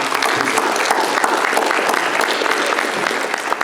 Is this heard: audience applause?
yes